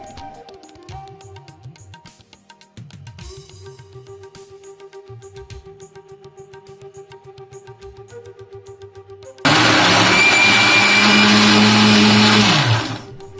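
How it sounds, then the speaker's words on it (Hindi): A mixer grinder roars loudly for a few seconds with a high whirring blade, grinding broken bread into powder, after quieter background hum and clatter, then stops abruptly. "अब इसे मिक्सर जार में तोड़कर डाल देना है और फिर इसका पाउडर बना लेना है।"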